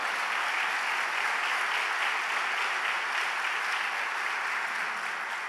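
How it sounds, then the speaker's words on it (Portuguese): A church congregation applauds, a broad, even wash of many hands clapping that holds steady throughout, filling the room at moderate volume with no talk on top. "Pode aplaudir ao Senhor, irmão?"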